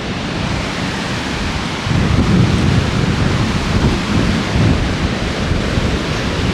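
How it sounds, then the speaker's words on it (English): Waves break on a lakeside beach near a lighthouse, a loud continuous wash of surf that swells noticeably after the first couple of seconds and stays rough and full with no voices. "But I got you a beach with waves."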